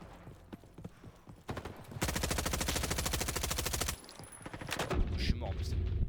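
Rapid sniper and automatic gunfire in the Roblox shooter Frontlines, a dense burst of shots running for a couple of seconds and then a sharper report amid game effects.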